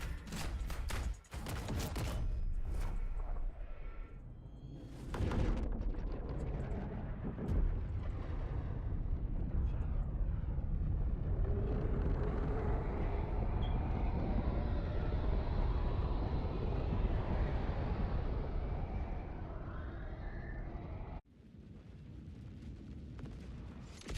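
A Helldivers video game drop-pod launch sequence: a loud, sustained rushing roar with rumbling low end and broadband turbulence that builds after a few sharp hits, then cuts off abruptly near the end.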